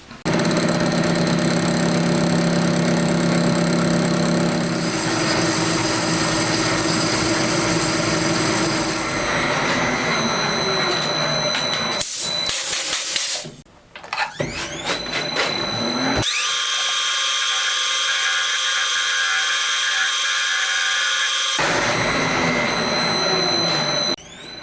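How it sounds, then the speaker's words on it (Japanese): A 10mm drill bit boring into a plastic cap for a four-cylinder 124.4cc Honda Monkey engine build: loud continuous machine whine with a brief stop and shifting pitch, close and alone. "貫通させないように気をつけながら 10mm のドリルで掘り込んでいきます。"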